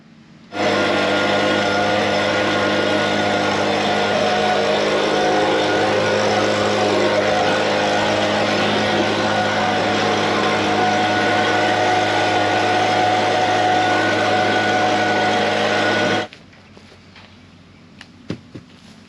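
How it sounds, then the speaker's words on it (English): A blower cleaning out a silage baler before baling hay runs as a loud, steady, close drone for about fifteen seconds, then cuts off abruptly and leaves quiet with a few faint knocks. "So I'm gonna blow it out this morning, just because I like to blow it out before I get going."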